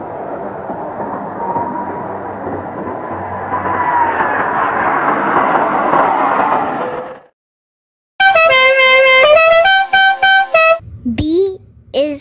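A bus engine rumbles and builds as the vehicle drives, then cuts off; after a pause a loud, tonal horn sounds in a rapid run of short honks.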